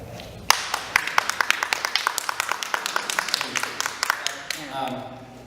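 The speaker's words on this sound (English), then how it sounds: "I assume you're clapping for her, not for me." A town hall audience claps in a steady run of sharp, fairly close hand claps that begins with one loud clap and then thins out.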